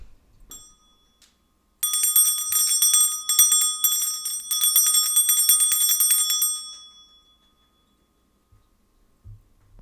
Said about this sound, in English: I'll clear the energy with my bell.